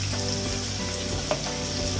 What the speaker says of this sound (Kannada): ಇದು ಸ್ವಲ್ಪ ಎಣ್ಣೆ ಬಿಡೋ ತನಕ ಫ್ರೈ ಮಾಡ್ಕೋಬೇಕು ನಾವು